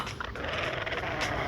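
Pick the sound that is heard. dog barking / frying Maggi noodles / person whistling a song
dog barking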